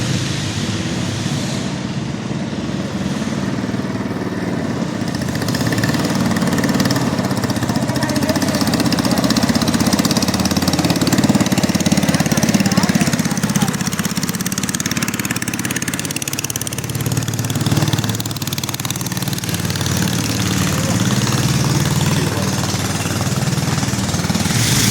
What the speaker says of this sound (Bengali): এই যে আরেকটা আসতেছে ট্রলার